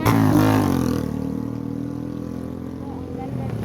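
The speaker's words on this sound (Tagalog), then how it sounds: "Grabe naman magpatakbo ng motor na yon. Sobrang ang ingay." A loud motorcycle drives past, its engine roaring at first and then fading into a lower drone as it moves off, with a voice talking over it.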